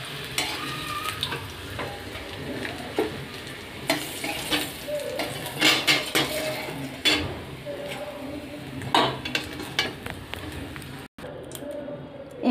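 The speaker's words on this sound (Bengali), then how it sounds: "কাঁচকলাটা আমার ভাজা হয়ে গেছে, এবার আমি উঠিয়ে নিচ্ছি।" Fried green plantain is lifted out of a pan of hot oil with a spatula, making a steady close sizzle broken by repeated scraping and tapping of the utensil against the pan.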